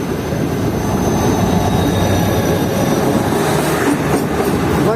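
The Karakoram Express rolls into Khairpur railway station with a loud, continuous rumble of wheels on track, faint rhythmic clatter and thin squealing tones riding above.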